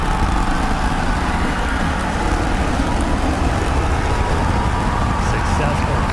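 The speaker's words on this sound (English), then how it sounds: "going for a landing burn, trying to light 2 of these Raptor sea level engines" Two Raptor sea level engines on a Starship fire for a landing burn, producing a dense, loud, continuous roar and rumble that stays steady from start to finish.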